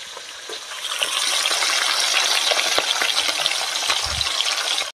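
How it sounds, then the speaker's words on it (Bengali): Fresh Ganges hilsa fish frying in plenty of oil, a dense close crackling sizzle that swells after the first second and holds steady with scattered pops, ending abruptly; no talking. "এদিকে দেখো মাছ ভাজা হচ্ছে"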